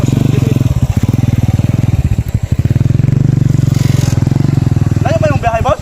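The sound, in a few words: motorcycle engine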